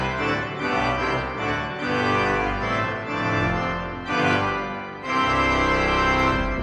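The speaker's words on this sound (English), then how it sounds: "If you want it to be a bit thicker and more powerful, you can add reeds to it." A large Rieger pipe organ plays sustained chords with reed stops drawn, giving a thick, buzzy, powerful full tone that swells and pauses briefly between phrases, with no voices.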